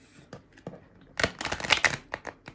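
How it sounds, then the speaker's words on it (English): Tarot cards shuffled by hand in a quiet room, a scatter of soft flicks building into a dense run of crisp riffling slaps, close and alone with no talk. "Oh, these don't want to shuffle."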